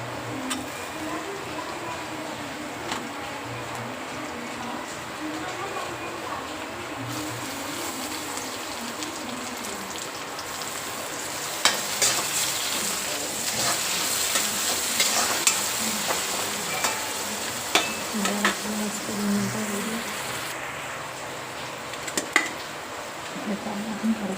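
Tomatoes and cabbage frying in a pan, a steady sizzle with scraping stirring strokes growing busier midway, a voice speaking faintly underneath.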